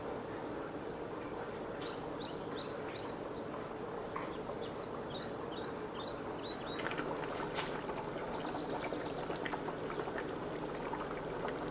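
Water is added to a simmering pot of GB (Gheyngba) soup served with fufu, giving a steady bubbling, liquid hiss throughout, with birds chirping faintly in the background.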